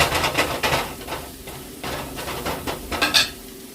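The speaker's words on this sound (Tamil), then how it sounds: "இந்த சூப் கட்டியை கம்மியால் தட்டி போட்டு மிக்ஸ் பண்ணி விடுவேன்" A soup cube is crumbled into noodles made from black kavuni rice and stirred in a pan, with clinking utensil scrapes and light taps at close range, rising near the end, with no voices.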